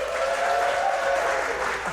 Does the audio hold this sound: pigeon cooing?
no